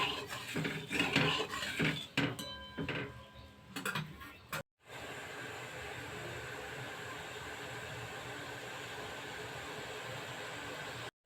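Sugar syrup with cloves is stirred in a pot for jalebi, with a spoon clinking and scraping the metal for a few seconds, then a steady simmering hiss.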